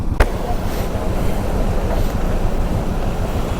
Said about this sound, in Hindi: ये है वाटरफॉल एक,